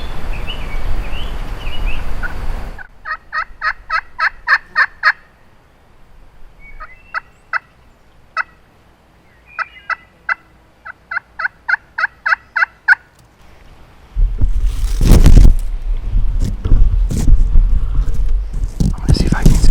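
A wild turkey tom strutting in the field gobbles in repeated sharp bursts, several rapid rattling calls clustered in a row, fairly near and clear over a quiet background, with rustling noise before and after.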